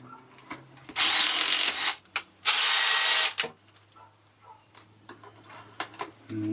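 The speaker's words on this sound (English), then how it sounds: "we just want to make sure that the hinge is still lined up again before we start driving in these rivets" Stainless steel rivets being driven into a kiln hinge with a power tool in two loud, harsh bursts of about a second each, followed by quieter clicks and handling sounds close by.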